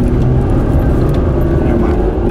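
Loud, steady roar of a car engine held at high revs while drifting on a drying surface, filling the whole stretch with dense rumbling noise.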